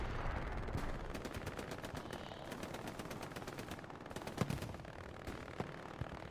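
Rifle and machine-gun fire in the WWII shooter Hell Let Loose, with M1 Garand shots on a night battle map at Foy: a steady crackle of many distant and near shots, sharper single reports standing out over continuous battlefield noise.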